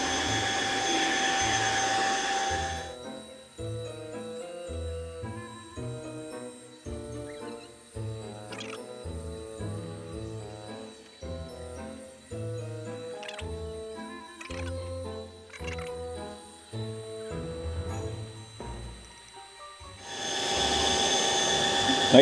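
A Tineco Floor One S7 Stretch Steam steam mop cleaning a floor hisses loudly and steadily at the start and end, with quieter stretches of tonal whirring and clicks in between.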